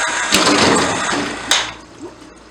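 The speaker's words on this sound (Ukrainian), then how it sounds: "Опускаємо її в воду і будемо давати ще більший тиск." An engine cylinder head being lowered into water for a pressure test at a motor service workshop, giving a splashing, rushing wash of water with two sharp knocks.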